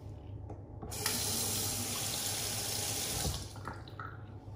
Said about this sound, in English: Rinsing my hands off.